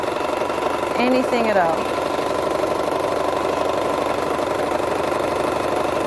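A sewing machine runs steadily, stitching a quilted design into a placemat, its motor a constant mechanical hum throughout, with a brief spoken phrase near the start.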